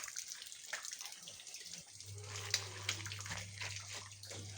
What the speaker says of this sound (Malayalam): വെള്ളം അടിച്ച് ക്ലീൻ ചെയ്യണത്